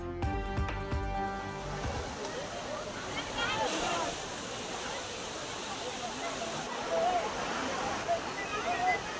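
Aliyar's Kavi waterfall near Pollachi pours steadily as a broad, continuous rushing hiss. It starts behind a brief musical sting and then stays even and fairly faint with no break.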